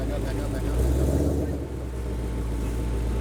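A car engine revs hard as the driver floors the gas, a loud steady roar that swells and then eases slightly, with a low rumble underneath and voices faintly present.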